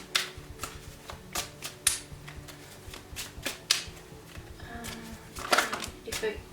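Tarot cards being shuffled by hand, a run of quick crisp riffles and flicks with short pauses between bursts, close and fairly quiet, with no talking.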